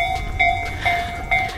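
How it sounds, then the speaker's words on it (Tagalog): A train at a Tokyo station sounds a repeating electronic chime, clear tonal beeps recurring three or four times in a steady rhythm, loud and close. "Ayan, tumutunog yung tren."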